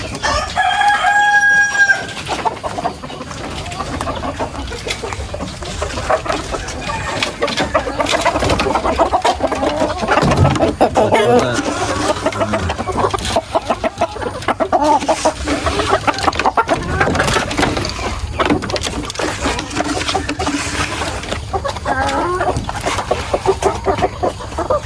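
Free-range native village chickens on a poultry farm cluck and crow continuously, a rooster's crow rising early among a busy, dense chorus of hens close by.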